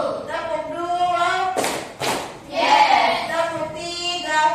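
A class claps a rhythmic chant led by a teacher in an Indonesian classroom session, with sharp bursts of group clapping between spoken chanted counts in a lively indoor room.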